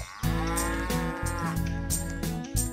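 Several cows in the farming video game Farming and Friends low and moo in loud, overlapping calls that run almost continuously, with brief breaks and a fresh moo near the end, and no voices.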